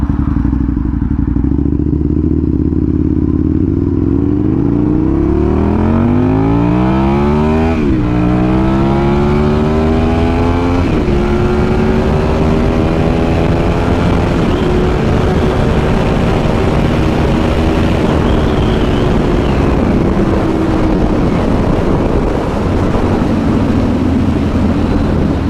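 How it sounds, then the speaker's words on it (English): An Aprilia RSV 1000R sport motorcycle accelerates hard past 100, its loud V-twin roar climbing through several gears with rising pitch sweeps and brief dips at each shift, all heard close and continuous. "Let's see, shall we do a acceleration over 100?"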